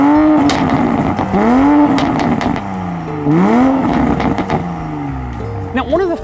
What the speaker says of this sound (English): one other distinctive thing in back is the sound of this car. I have to say, it sounds pretty good.